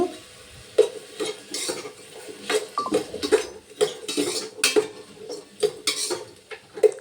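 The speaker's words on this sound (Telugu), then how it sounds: "కొంచెం వేసుకొని మళ్ళీ కలుపుకోండి" Vegetables being stirred with salt in a pan for a bachelor-style vegetable rice, a spoon scraping and clinking against the metal pan in a steady rhythm with soft sizzling underneath, close and alone without talk.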